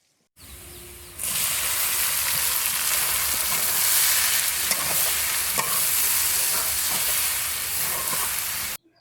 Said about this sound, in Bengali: তেলে দিয়ে দিলাম শুকনো ঝালের কুচি, দিয়ে দিলাম রসুনের কুচি। এবার রসুনটা একটু লাল লাল করে ভেজে নেব।